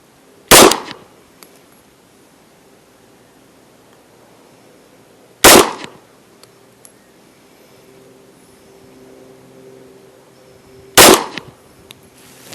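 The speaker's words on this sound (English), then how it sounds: "We'll do 3 more shots, the exact same thing, and see what we get." Three sharp gunshots fired at a target on a shooting range, spaced about five seconds apart, each loud and close with a short decaying echo and quiet between.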